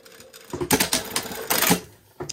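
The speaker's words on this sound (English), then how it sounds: "Got my machine set at a long stitch length" Sewing machine set to a long stitch length running bias tape strips, two bursts of fast mechanical clatter with a short pause between, close and fairly loud.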